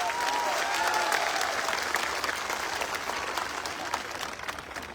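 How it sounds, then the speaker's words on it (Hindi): Loud, dense audience applause at a business gathering, many hands clapping steadily for the whole stretch and tapering slightly toward the end. "सबसे पहले एक जोरदार तालियां आज आप अपने लिए बजाओ।"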